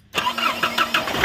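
A Mahindra Scorpio mHawk engine cranks and catches, then settles into a rhythmic, pulsing run. It is close and fairly loud, with no voices.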